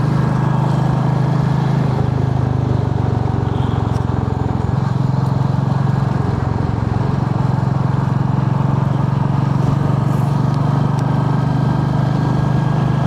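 Steady low engine drone of a Royal Enfield Meteor 350 motorcycle being ridden on the road, a constant loud rumble with wind noise throughout and no clear change in pace.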